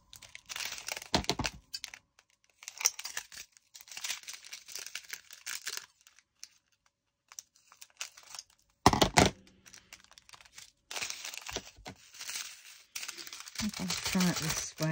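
Scissors cut through Disney sticker sheets close by, with bursts of crisp snipping and papery crinkling separated by quiet pauses, while a person talks at times.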